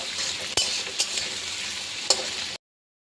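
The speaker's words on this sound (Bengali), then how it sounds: "আলুগুলোকে প্রথমে লাল লাল করে ভেজে নেব।" Potatoes frying in a pan, a continuous crackling sizzle punctuated by a few sharp clinks of a utensil stirring, ending abruptly in silence.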